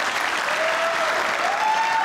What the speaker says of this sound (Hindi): जिनको लगता है उस्मान की स्केचिंग मुझसे अच्छी हो तालियां बजाएं